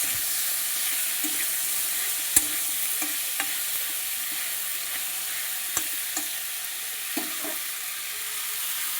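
Green banana pieces fry in oil in a pan, giving a dense, even sizzle with occasional stirring taps and clinks, loud and continuous with no one speaking.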